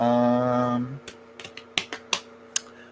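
A tarot card deck being shuffled at a table, heard as a short run of crisp, irregular card clicks and riffles after a brief voice, close and fairly quiet.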